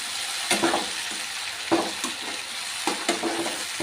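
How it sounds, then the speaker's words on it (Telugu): Chopped tomatoes fry in oil for egg bhurji, with a soft sizzle beneath three or four distinct stirring scrapes and clinks of a spoon against the pan, spaced about a second apart; no speech. "ఇదంతా ఆయిల్లోకి చక్కగా కలిసేలాగా ఇలా ఒకసారి కలుపుకుందాం"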